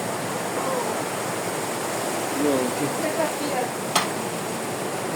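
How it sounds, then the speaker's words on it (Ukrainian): Steady rushing rainwater flows continuously through a drainage channel during a downpour, with a faint voice briefly underneath and a short click near the end. "от тече і вона пішла вода"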